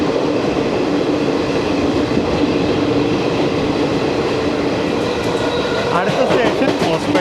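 A freight train runs alongside a moving passenger train on an Indian line between Mysuru and Hubballi, a steady dense rumble and rattle of wagons throughout, with faint wheel squeal and clacking toward the end.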